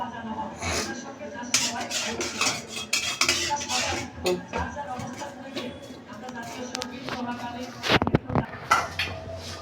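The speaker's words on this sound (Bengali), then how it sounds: "আমি একটা ছাঁকনির সাহায্যে সবগুলি রস এরকম চামচ দিয়ে চেপে চেপে বের করে নিচ্ছি" A spoon presses tomato juice through a metal strainer for homemade tomato sauce, making repeated scraping and clinking metal sounds, close and fairly loud, while a person talks over them.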